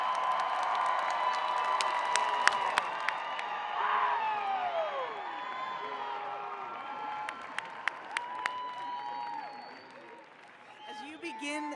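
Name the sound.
commencement audience applause and cheering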